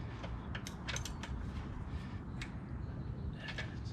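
Faint metallic ratcheting and creaking as a wrench tightens a part on a Yamaha outboard motor during servicing, a few quick clicks over a steady low background hum.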